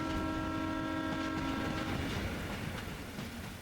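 Train from the Front Mission tactical game rumbles steadily with a sustained horn-like tonal blare over a rolling rail clatter, loud and continuous before easing slightly at the end.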